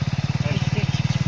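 A motorcycle engine running after a kick start, its steady fast thumping pulse close and fairly loud from start to finish.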